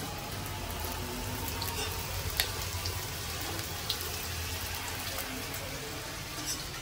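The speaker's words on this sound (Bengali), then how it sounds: "তো আমার এখানে সিম ভাজা হয়ে গেছে" Flat beans fry in a pan with a steady, soft sizzle that crackles continuously throughout, with no voices.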